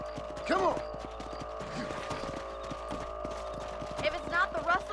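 Horse hooves clip-clopping in the video game Red Dead Redemption, a steady trot running under a voice, with other game sounds in the background.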